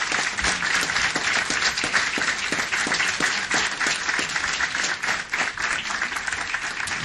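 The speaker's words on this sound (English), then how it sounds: "Now let's give these officers a round of applause." A city council audience gives police officers a round of applause, dense steady clapping from many people that stays loud without a break, and nobody speaks over it.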